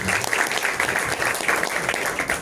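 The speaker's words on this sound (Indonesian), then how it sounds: "Terima kasih, boleh tepuk tangan." A crowd applauds at a campus dialogue event on national pillars and nationalism, with loud, close, roomy clapping and some voices mixed into the dense, even noise.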